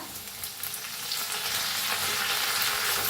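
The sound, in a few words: mustard seeds, cumin, asafoetida and garlic frying in oil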